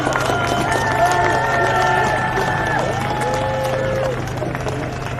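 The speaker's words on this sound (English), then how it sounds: "just give yourselves a massive round of applause for turning up today" A crowd at an outdoor clean-water march cheers and applauds in a loud, continuous roar, with voices rising and falling through the noise.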